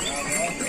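Horse or mule hooves clip-clopping on the mountain trail to Yamunotri, a steady close rhythm of hoof strikes under busy background noise and voices.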